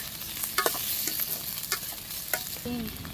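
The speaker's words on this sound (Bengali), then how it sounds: "এবার এটাকে ভালো করে মেখে নেব, মানে নাড়ি চাড়িয়ে নেব" A semolina mixture with ketchup is stirred in a pan: a low sizzle under repeated scraping and clattering strokes of a spoon, plus a brief squeak near the end.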